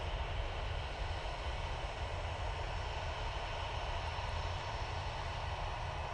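An Aer Lingus airliner departs Manchester Airport bound for Dublin, its engines a steady, moderately distant broadband roar that holds level throughout with no talk.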